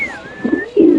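Lahori pigeons coo close by, a short throaty burst of low rolling coos rising to a fuller, louder phrase at the end, with a faint thin whistle-like tone above.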